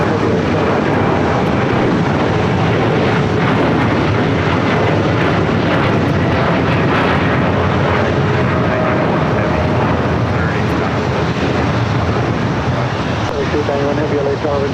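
An airliner on approach to land at LAX runway 25 left, a loud continuous engine roar with a propeller-like drone sustained throughout, overlaid by air traffic control radio chatter.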